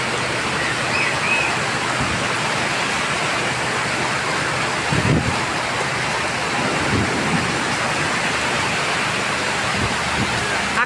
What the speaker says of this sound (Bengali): টিনের চালের শব্দ শুনতে পাচ্ছেন আপনারা?